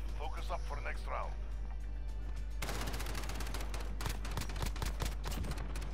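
Rapid automatic gunfire from Call of Duty Modern Warfare Gunfight crackles in a dense burst after a player's voice, continuous shots close up over a steady low hum.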